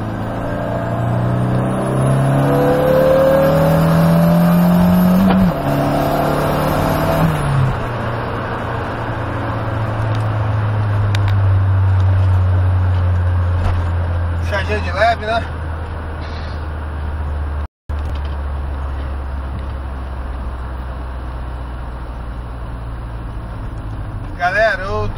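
Turbocharged car, not yet warmed up, pulls away gently with a rising engine note over the first few seconds, then settles into a low steady rumble while passing road noise and brief clatter follow.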